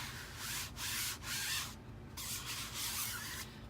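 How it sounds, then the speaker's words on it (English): Rhythmic sanding strokes, close and steady, as a surface is rubbed down in a crafting project, each back-and-forth pass a soft hiss with a brief pause partway through. "I'm rubbing it down."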